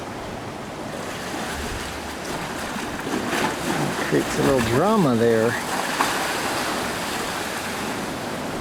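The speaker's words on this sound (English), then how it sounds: "The way the waves are splashing in here." Ocean waves surge and splash into the sea arches at Point Arena, a steady broad wash of surf with a swelling crash midway, while a person talks over it.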